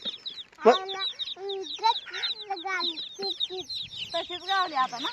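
Chickens cluck and squawk close by in a busy, continuous chatter, with one sharp loud squawk near the start.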